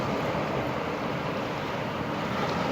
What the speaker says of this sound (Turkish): sadece denizin sesini dinlemek bile insanı dinlendiriyor